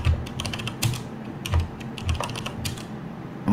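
Keys tapped on a computer keyboard during a hardware hacking session, entering a login username and password. Steady soft keystrokes run throughout, with slightly heavier thumps about every half second, close and alone with no talking.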